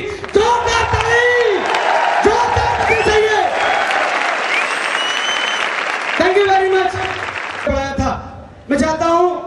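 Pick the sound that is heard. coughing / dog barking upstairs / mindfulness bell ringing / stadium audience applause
stadium audience applause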